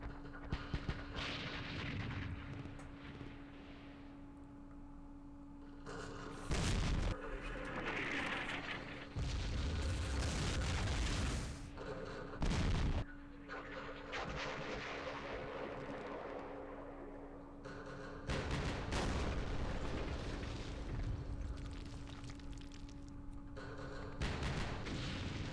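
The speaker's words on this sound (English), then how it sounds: "Damn French artillery. Oh no! Counter battery fire." Booming artillery and counter-battery fire in the Vietnam war game Campaign Series Vietnam, heavy blasts recurring in several loud bursts over a steady low drone.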